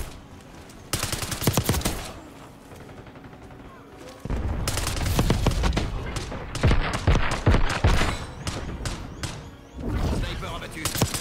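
Bison submachine gun fire in Black Ops 6 comes as rapid, punchy bursts of shots with gaps between volleys, loud and close amid game effects, while a voice talks over parts of it.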